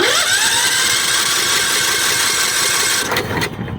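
John Deere L110 lawn tractor engine with a new starter, cranking over in a loud, steady mechanical whir close up, ending abruptly with a couple of clunks.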